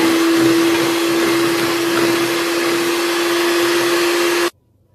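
Electric mixer whirring steadily as it blends cake batter with milk, a loud constant motor hum that cuts off abruptly near the end.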